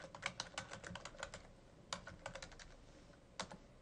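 Typing an author's name on a computer keyboard: quick bursts of close, crisp key clicks in uneven clusters, with short pauses between groups.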